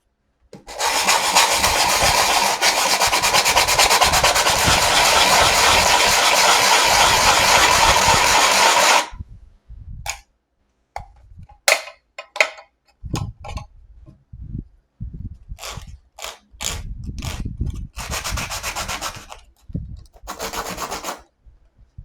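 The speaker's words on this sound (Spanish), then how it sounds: "voy a utilizar un pliego de lija y, realizando un movimiento circular," Sheet of sandpaper rubbed in circular motions over a cap to wear it away, a loud continuous rasping scrub for about nine seconds, followed by short scattered scraping strokes.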